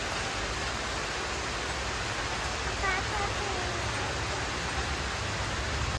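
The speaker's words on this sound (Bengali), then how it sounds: "মুসলধারেই বৃষ্টি শুরু হলো" Heavy monsoon rain pouring down outside in the evening, a dense, steady roar of falling water that stays constant throughout with no breaks.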